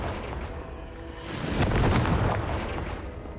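A Confringo spell blast from the Hogwarts Legacy video game erupts as a single booming explosion that swells and fades over a few seconds, fairly loud with no talk.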